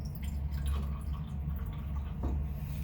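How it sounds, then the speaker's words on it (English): An acid salt layer drains from a separatory funnel into a glass beaker in a chemistry lab, making faint, steady trickling and dripping over a low background hum. "drain the upper acid salt into its own beaker"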